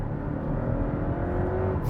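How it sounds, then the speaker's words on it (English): Low, steady drone of a Porsche Cayman 2.0 four-cylinder engine with sports exhaust, heard from inside the car on the road as an even, slightly flat hum without speech. "It's obviously not going to be quite as sonorous as a 6-cylinder would be, even with the added extra cost of this sports exhaust."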